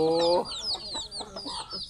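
Chickens cluck in a rural yard, a run of quick, close, busy clucks after a brief tonal sound at the start.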